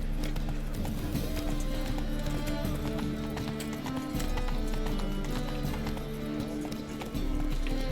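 Roach, a horse in The Witcher 3, gallops with steady rhythmic hoofbeats over a continuous bed of game music and ambience, with a brief whinny near the start.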